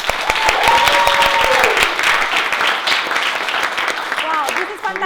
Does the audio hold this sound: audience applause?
yes